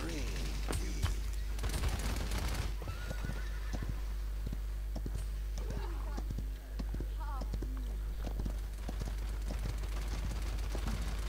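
Gunfire rattles in Paladins on the Timber Mill map: scattered sharp shots and short rapid bursts over a steady background hum, with someone talking over them.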